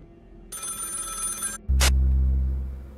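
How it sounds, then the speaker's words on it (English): A telephone bell in the game Find Yourself rings loudly in a single burst of about a second, then a deep low rumble swells and fades out. "might as well pick up our last phone call, huh?"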